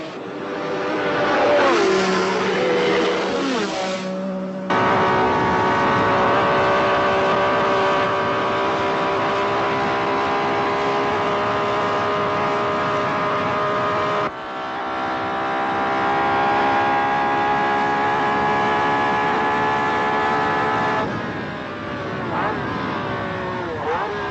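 1960s Formula 1 race cars roaring at full speed, a sustained loud engine whine with shifting pitch and a brief drop midway, under an Italian-language commentary voice.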